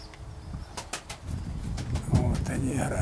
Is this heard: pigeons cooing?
yes